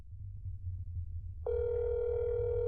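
A phone call in the game That's Not My Neighbor: a low hum gives way to a steady, continuous electronic dial tone that holds clearly to the end.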